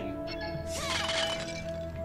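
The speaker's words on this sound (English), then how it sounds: "more pot smashing." Clay pots smashing in the video game Evoland 2, a burst of shattering and breaking crashes over steady game music, loud and close, with scattered clinks trailing off.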